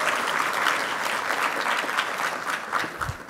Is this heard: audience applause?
yes